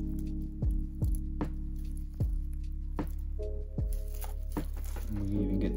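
Mixed two-part resin being stirred in a cup, with a series of soft, wet clicking taps repeating every half second or so over a constant low hum.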